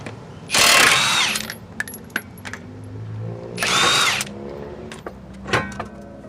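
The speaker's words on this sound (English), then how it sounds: "You'll need a 21mm socket to remove the lug nuts." A power tool with a 21mm socket spins lug nuts off a 2004–2012 Mitsubishi Galant in two loud, close whirring bursts. Clanks, handling noises and a brief third rattle come between them.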